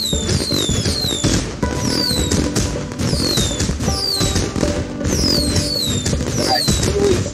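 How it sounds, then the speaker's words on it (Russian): Fireworks play as the victory animation after a winning game of Spider Solitaire: a loud, dense run of crackling bursts and popping reports with rising whistles, repeating in waves across the whole stretch with no talk. "Красивый салют!"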